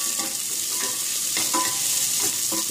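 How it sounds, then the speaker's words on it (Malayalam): Chopped onions sautéing in a pan until golden for channa biryani: a constant close sizzle with rhythmic spatula scrapes recurring every half second or so. "ഇത് നല്ല പൊന്നിറം ആവുന്നത് വരെ വഴറ്റണം സവാള"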